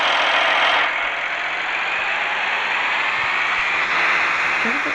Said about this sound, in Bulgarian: Доста голяма разлика, защото този е по-малък трактор.